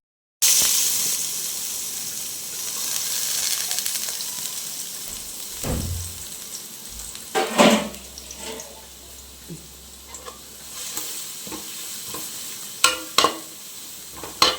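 Steady sizzling of carrots sautéing in a pan, with intermittent stirring knocks and scrapes growing more frequent toward the end.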